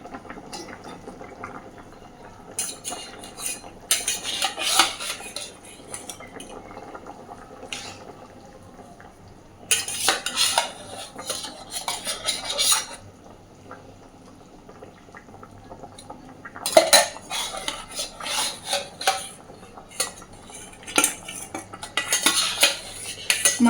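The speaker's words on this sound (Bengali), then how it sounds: "এইবার সমস্ত ভেজে রাখা মাছগুলোকে আমি ঝোলের মধ্যে দিয়ে দিচ্ছি।" Metal utensils clink and scrape against a pot as fried rohu fish pieces go into bubbling curry gravy, in bursts of stirring and clattering separated by quieter simmering, close by with no talk.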